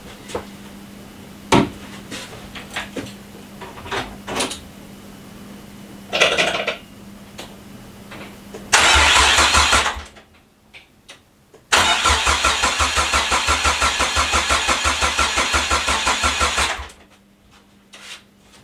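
A Nissan S13 starter motor cranks the engine in bursts, with a short burst, then a longer one near 9 seconds and a sustained several-second crank after a pause, close and loud with faint clinks in between.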